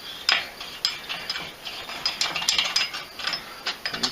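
A ratchet clicking as it turns an old nut to chase the threads of a stud on a VW trike's cylinder head, bursts of rapid close pawl clicks with short pauses between strokes, no talking.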